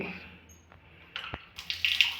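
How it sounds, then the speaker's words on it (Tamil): Water running from a tap in the washing area of a mosque in Zimbabwe: faint splashing and hiss that grows louder and more broken near the end, with brief clicks and soft background noise. "இதில் தண்ணி வருது, அல்ஹம்துலில்லாஹ்"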